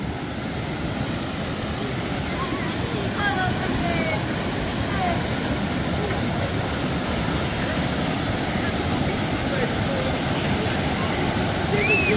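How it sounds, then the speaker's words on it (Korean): Janggak Falls, a waterfall fed by streams from Songnisan's Cheonhwangbong peak, pours steadily into a deep pool, making a continuous broadband rushing roar that fills the whole stretch at even loudness with no pauses. "폭포 그냥 보입니다."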